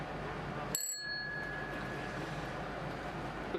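A single bright metallic bell ding rings out with a short lingering tone over steady background noise, during combat footage with electronic warfare jamming nearby.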